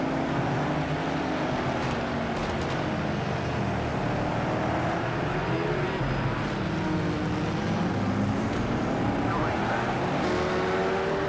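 A race car engine drones steadily through the IMSA Long Beach street circuit in Project CARS 2, with pitch rising and falling through shifts and corners. Several cars can be heard, and a voice talks faintly underneath.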